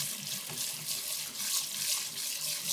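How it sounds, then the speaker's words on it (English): Cooked dragon's tongue beans being rinsed under a running kitchen tap, a continuous close hiss of flowing water with faint shifting splashes as they are moved in the stream. "And I'm just going to give them a little more rinse."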